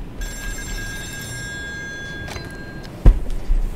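A telephone rings repeatedly on an offshore oil rig in the video game Still Wakes the Deep, a steady trilling bell heard for several seconds, followed by a sudden clunk and rustling.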